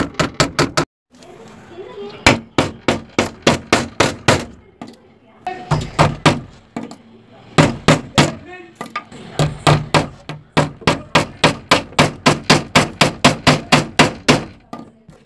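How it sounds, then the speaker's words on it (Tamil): Nails being hammered into wood for a homemade two-tier chicken coop: quick runs of sharp, loud, close blows in steady rhythm, broken by short pauses, with a voice talking in between. "நிறைய ஆணி அணிக்கோங்க. அப்போ நல்லா ஸ்டாங்கு பிடிக்கும்."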